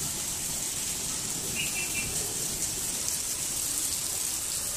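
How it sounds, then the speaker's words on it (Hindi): Heavy rain pours down steadily as a dense, even hiss that fills the whole scene, with faint bird chirps in the background, near a bulbul trap. "और बारिश जो है वो बहुत तेज शुरू हो गई है"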